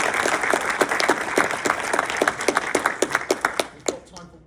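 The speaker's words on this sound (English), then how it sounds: "Round of applause, first of all." A room full of people applauds at the close of a talk on team leadership. The clapping is dense and steady at first, then thins into scattered, distinct claps that fade out near the end.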